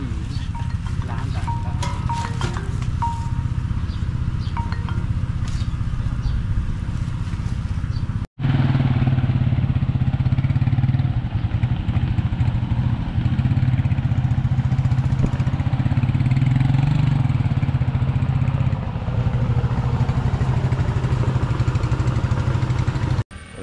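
A grass cutter engine drones steadily and loudly up close with a low rumbling tone, briefly cutting out once before running on without pause.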